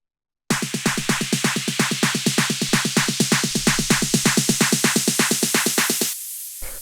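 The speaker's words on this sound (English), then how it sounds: "the last thing down here would be these sort of riser elements" A techno riser element plays as a rapid, steady train of bright noisy pulses, about six per second, loud and close for roughly six seconds before cutting off into a brief fading tail.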